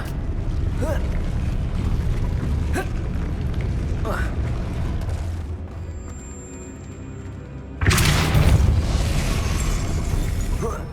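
The Depulso spell cast in Hogwarts Legacy lands as a sudden loud whooshing blast over a continuous rumbling game ambience, followed by a lingering roar.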